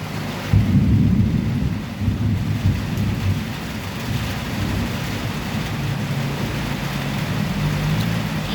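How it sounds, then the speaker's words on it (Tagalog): Steady, heavy downpour with a dense low rumble throughout, like a storm pounding down close by with no break. "Ang laki ng ulan."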